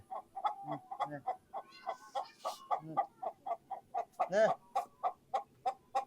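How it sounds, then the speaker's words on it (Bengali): Chickens cluck in a rapid, rhythmic series of close, sharp calls, with a few louder squawks mixed in and no clear talking. "ওই মুরগি রাও করিস না"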